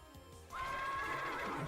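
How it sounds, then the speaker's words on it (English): A robo horse in the video game Wintermoor Tactics Club lets out a single short, clear whinny, starting after a brief quiet moment and heard alone. "The robo horse. What the heck is that thing?"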